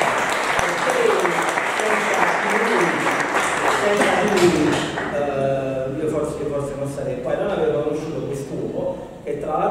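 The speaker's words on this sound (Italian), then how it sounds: "devo fare un applauso alla memoria di Lucio." An audience applauds at a book presentation in a Naples theatre, a sustained wash of clapping under a speaking voice, thinning out after a few seconds as the talk continues.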